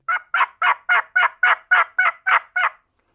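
Ten evenly spaced, loud turkey-like notes from a handheld turkey call imitating a hen, sharp and rhythmic, each note short and clear, played alone with silence after the last one.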